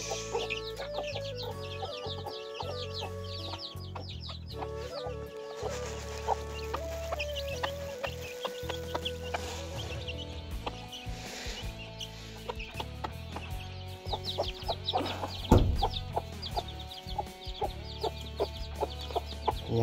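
Chickens in a Darjeeling village clucking close by, a busy run of short repeated clucks and cackles over about twenty seconds, with faint background birdsong.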